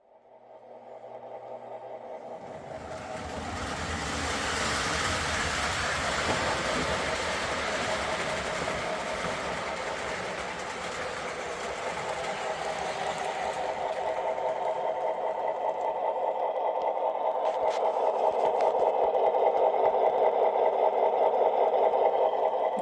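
A Lionel O scale model train runs steadily around the track, a continuous whirring motor hum and rolling clatter that grows louder and nearer toward the end, with no talking.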